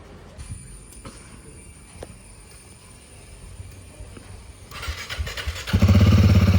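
A scooter engine cranks and catches near the end after a stretch of quiet outdoor ambience outside a block of flats, rising into a loud, close idle rumble during the last second or two.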